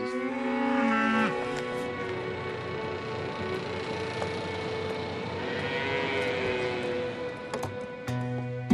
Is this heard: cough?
no